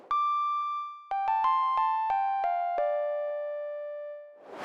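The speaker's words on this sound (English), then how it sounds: "For this lead, I'll be using the Jupe 8 V3 preset inside the Synthwave expansion of Easy Keys" Jupiter-8-style synthwave lead from the Jupe 8 V3 preset in Easy Keys' Synthwave expansion, a bright sustained note followed by a quick run of plucked-attack notes stepping downward, then one long held tone, dry and alone.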